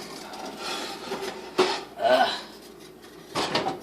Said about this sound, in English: Putting this back on the stove.